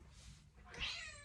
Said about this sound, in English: I'm so sorry about my cat.